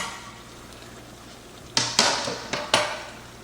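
A spoon scrapes and clinks against a pan while serrano pepper and cilantro are mixed in, four or five sharp close knocks over a faint background hum.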